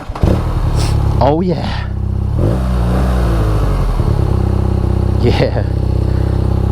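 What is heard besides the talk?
BMW R nineT Pure motorcycle engine running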